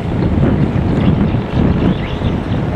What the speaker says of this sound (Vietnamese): ghe đâu mà nó bắn một cái nghe thấy ghê trời